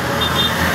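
Loud road traffic rushes past on a busy roadway near Cainta, Rizal, a steady close wash of engine and tire noise with no breaks.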